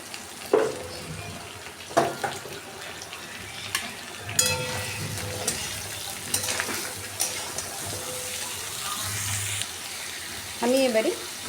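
Chopped vegetables with onions sizzle in a pan as a spoon stirs and scrapes now and then, a steady close frying hiss with occasional clanks, and a voice speaks briefly.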